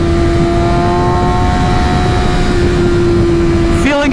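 A Kawasaki ZX-6R sport bike fitted with a Yoshimura Alpha-T exhaust holds a loud, steady high-pitched engine drone close by, with a brief sharper burst near the end.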